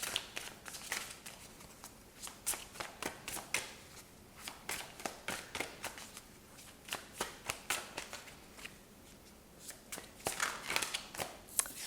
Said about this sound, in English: I'm going to shuffle this deck as well